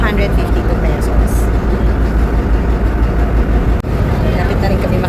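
Low steady engine drone of a barge crossing to Camiguin Island on calm sea, continuous and loud throughout with wind and water noise, a brief dip near the end; a voice speaks over it.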